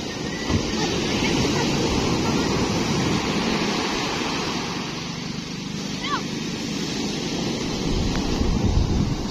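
Strong wind roars steadily across the microphone on a rocking boat at sea, with a broad rushing noise of open water churning below, while people talk over it.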